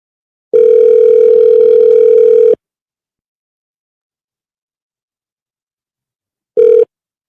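Telephone dial tone during a prank call: a loud steady tone holds for about two seconds, falls silent for four seconds, then returns briefly, with no voices.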